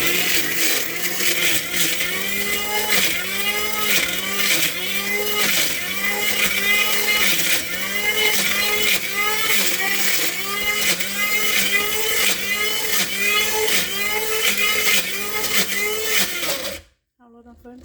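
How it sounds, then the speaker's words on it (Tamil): A blender grinds roasted peanuts into peanut butter with a loud, close, steady motor whine that pulses rhythmically as the thick paste churns, then cuts off abruptly at the end. "நீங்கள் அதை பீனட்டை அரைக்க ஆரம்பிக்கணும்"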